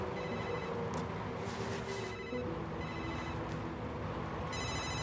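Telephone ringing for an incoming call, a repeated electronic ring over a constant low background murmur, moderately loud with no talking.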